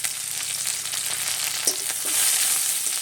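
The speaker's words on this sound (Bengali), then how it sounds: "একটু হালকা করে ভেজে নিচ্ছি। নেড়ে চেড়ে পেঁয়াজটাকে ভেজে নিয়েছি।" Chopped onions and green chillies fry in oil in a pan, a dense continuous sizzle close up with occasional stirring scrapes and a slight swell in intensity toward the end.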